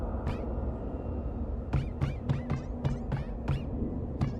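A cat in the video game Shadows Over Loathing meows in a run of sharp, rising calls: one early, then seven in a quick, fairly even series, loud and close over a steady low game soundtrack drone.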